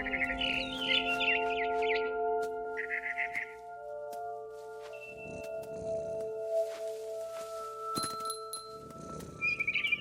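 Barn swallow chirps from the video game What Remains of Edith Finch come in short, clear bursts early on and again at the end, over a sustained tonal musical drone with occasional soft thumps.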